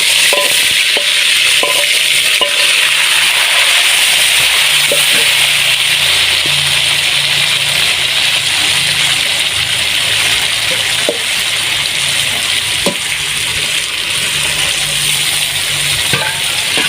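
Chicken chaap masala sizzles steadily in ghee in a pan, a loud, dense frying hiss with soft scrapes and taps of stirring scattered throughout.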